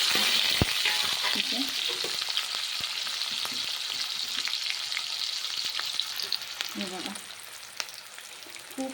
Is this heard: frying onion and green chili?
yes